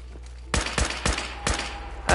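Five sharp gunshots from a regular hunting rifle in a video game ring out loud and close at roughly even, quarter-second-to-half-second spacing, with a faint tone lingering under the later shots.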